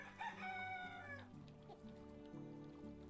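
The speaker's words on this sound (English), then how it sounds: "Hi, chickens!" Chickens in the video game Medieval Dynasty cluck and crow close by, with a drawn-out rooster call at the start followed by lower clucking notes.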